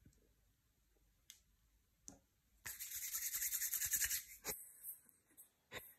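A card being rubbed by hand, heard as a short burst of dry scraping friction with a few faint taps before it, close and quiet.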